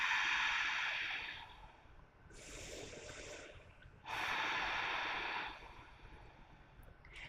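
Slow, deep yogic breathing during a power vinyasa flow, with two long, airy breaths, each swelling and then fading, near and steady, with no talk over them.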